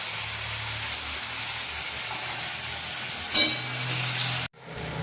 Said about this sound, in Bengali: দেখো, এটা মশলাটা ভাজা হচ্ছে।